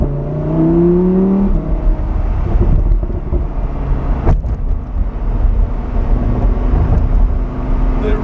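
A 2016 Lamborghini Huracan Spyder engine revs up and pulls hard, a loud close roar rising in pitch over the first seconds, then settling into a steady strong drone with brief shifts, no talking.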